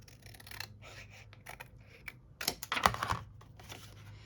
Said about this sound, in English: Okay, let's cut here.